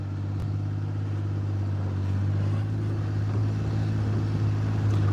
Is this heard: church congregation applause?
no